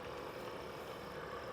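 A Toyota 4Runner's engine fitted with a Magnuson supercharger runs at a steady idle, a low, even drone with no revving, fairly faint across a brief moment.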